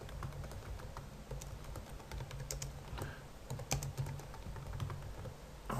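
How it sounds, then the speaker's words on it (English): Text is typed on a computer keyboard while drafting in Inventor CAD software, a quiet, close run of quick, irregular key clicks lasting several seconds, with no voices. "I'm going to type in my text"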